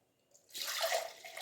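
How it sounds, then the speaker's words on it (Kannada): Water is poured into a mixer jar for a green masala avarekayi sambar, a short near splash that starts after a quiet moment and holds as a steady soft pouring rush. "ನಾನು ಈ ಜಾರಿಗೇ ಸ್ವಲ್ಪ ನೀರು ಹಾಕಿ ಹಾಕ್ತಿದ್ದೀನಿ ನೋಡಿ"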